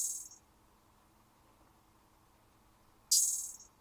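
Two bright, sizzling open hi-hat hits, one fading at the start and another ringing out near the end, with a quiet hush between them.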